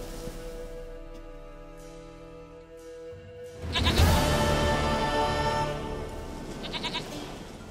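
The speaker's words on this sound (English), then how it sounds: "Goat of mine! Dearest, sweetest goat!" A goat in The Witcher 3 video game lets out a loud, wavering bleat partway through, rising over a dense bed of game music and ambient sound.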